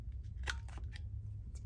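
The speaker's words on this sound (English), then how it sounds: "I need to get these curling corners in there and snip them off." Scissors snipping off the curling corners of paper during a craft session, a couple of quick, faint close cuts over a low background hum.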